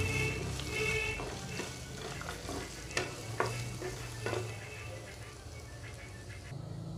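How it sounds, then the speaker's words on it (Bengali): Chopped onions fry toward golden brown in a pan, a continuous sizzle broken by repeated scraping stirs and a few sharp knocks. The sound stays close and fairly loud, with no clear voices. "এবার দিয়ে দেবো পেঁয়াজের কুচি। ভালো করে এটাকে গোল্ডেন ব্রাউন করে একটু ভেজে নেব।"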